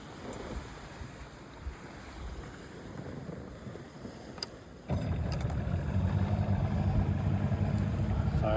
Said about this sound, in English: so 1978 Johnson 70 horse. It's called the Seahorse. So let me crank this rascal up